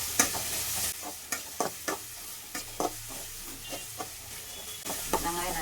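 Onions for cauliflower kurma sauté in a pan with a continuous sizzle. Repeated spatula scrapes and knocks fall at an uneven rhythm as they are stirred.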